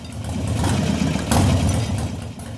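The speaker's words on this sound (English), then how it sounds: "At this point, the engine does not throttle well." Close, steady low rumble of an engine idling on an S&S Super E carburetor, poorly tuned so it throttles badly, with a brief swell in the middle.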